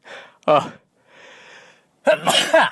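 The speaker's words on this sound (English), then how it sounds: "Getting my morning sneeze out of the way." A sharp inhaled gasp leads into a loud, close sneeze, followed by a breathy exhale and a second explosive sneeze.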